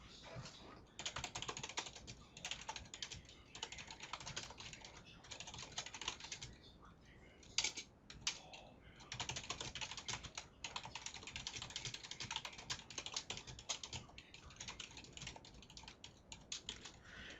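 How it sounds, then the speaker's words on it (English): Rapid typing on a computer keyboard with a continuous clatter of keystrokes, a few brief pauses, fairly close and steady throughout. "I'll just type it out."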